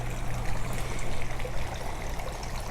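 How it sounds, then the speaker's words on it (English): A small garden water fountain beside a shed trickles and splashes steadily, a close, gentle continuous burble with no voices. "A little water fountain here."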